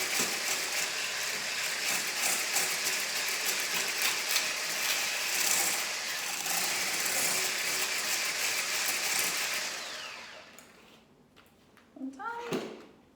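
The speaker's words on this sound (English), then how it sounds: "And then one last whisk." Homemade low-tox moisturiser cream with frankincense being whisked: a rapid, steady mechanical whirring rattle, close and even, that stops near the end, followed by a few faint clicks and a short burst of voice.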